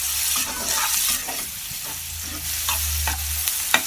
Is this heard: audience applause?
no